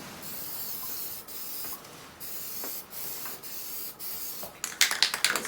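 Short bursts of spray paint hiss from an aerosol can coating a Mercedes Sprinter van steering wheel, several separate sprays with brief pauses, then a quick rattling clatter at the end.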